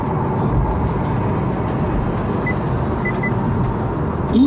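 A Honda e electric car accelerating on an expressway, heard from inside the cabin as a steady, fairly loud wash of road and motor noise that holds even for several seconds with no talking.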